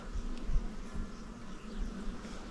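A continuous low hum of honeybees at a weak hive being strengthened, steady and moderately faint, with slight swells as insects fly near.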